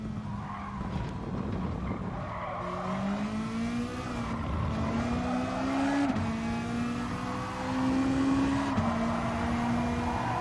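Race cars, an Audi among them, scream past in a Gran Turismo Sport race, a sustained high engine whine rising through gear changes with tire squeal and skidding, loud and continuous.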